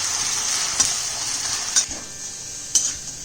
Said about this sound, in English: Allow these to fry till they are perfectly golden brown and crisp at the same time